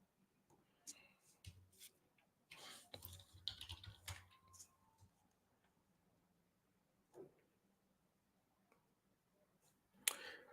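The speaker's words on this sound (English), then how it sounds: "Do y'all hear me typing or no?" Scattered bursts of keyboard typing, quiet and close, separated by pauses, with a brief sharp click near the end.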